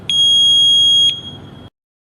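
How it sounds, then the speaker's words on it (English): A household smoke detector sounds a loud, piercing continuous beep for about a second during a test, then stops abruptly, with no talk. "I am checking the smoke detectors."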